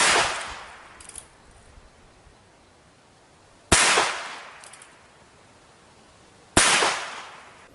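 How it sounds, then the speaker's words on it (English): Two sharp shots from a cheap Heritage Rough Rider .22 caliber single-action revolver ring out a few seconds apart, each a loud close crack with a quick decaying tail, after some faint handling noise. "Now we're going to find out how it fires."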